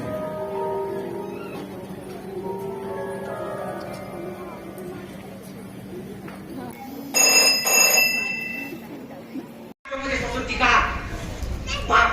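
A telephone rings in bright repeated bursts, loud and near, amid voices and someone talking in the background.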